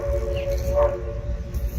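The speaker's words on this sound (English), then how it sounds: "What you just heard is a train from the Tennessee Valley Railroad Museum" A Tennessee Valley Railroad Museum train passes at a distance, its steady tonal hum and faint horn-like drone sitting over a low rumbling background.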